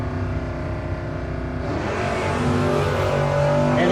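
A Camaro drag race car launches at a no-box 660 drag racing shootout, its loud engine roaring steadily and then rising sharply in pitch as it accelerates hard away down the strip.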